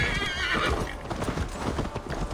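Horse hooves galloping and a whinny in Assassin's Creed Valhalla, with rapid close clip-clops and a loud neigh at the start, the hoofbeats continuing steadily afterward.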